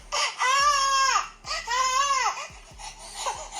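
A recorded baby's cry played aloud as a test for a security IP camera's sound detection: two long wailing bursts with a rising-falling pitch, separated by brief gasps, then shorter sobs, fairly loud and with no talk.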